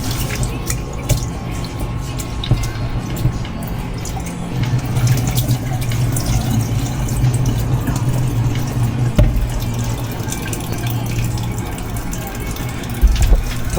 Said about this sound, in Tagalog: Bagal naman yung tulo ng tubig.